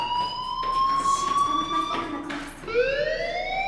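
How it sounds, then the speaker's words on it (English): A fire alarm rings inside the video game Life is Strange, a steady electronic tone that sweeps and holds, loud and continuous for a few seconds and then rising again. "Hey, do you hear that fire alarm?"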